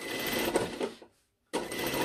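Sewing machine stitching a white topstitch seam on a lined cranberry jacket, a dense steady whir for about a second, then a short silent pause before the stitching starts again just as loud.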